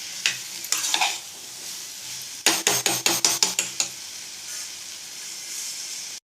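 A utensil stirs chhola bhatura batter after baking soda is mixed in, giving soft scraping strokes and then a quick run of about eight sharp, evenly spaced taps or clacks against the bowl. A steady faint hiss runs underneath throughout.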